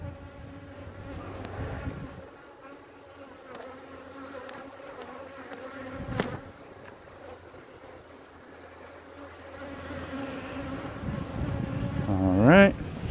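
Honey bees buzz at a hive being filled with nectar and pollen. A steady, fairly quiet drone rises toward the end, with a brief sharp knock near the middle and no talking.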